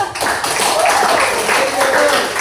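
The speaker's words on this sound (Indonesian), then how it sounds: "Tepuk tangan." Students clapping in a classroom during a religious studies lesson, a short burst of group applause over the full clip with some voices mixed in.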